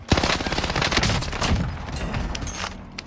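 Tommy gun fire in Call of Duty Warzone on Rebirth Island, a loud, dense burst of rapid automatic shots that rattles on for about three seconds with no pause.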